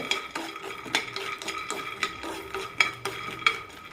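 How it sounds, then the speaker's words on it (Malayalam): Chana dal dry-roasting in a pan for coconut chutney, a spatula stirring and scraping with repeated metallic clinks and light rustling of the lentils, close and steady with no talking. "കടല നല്ല ഗോൾഡൻ ബ്രൗൺ ആകുന്നതുവരെ വറുത്തെടുക്കണം"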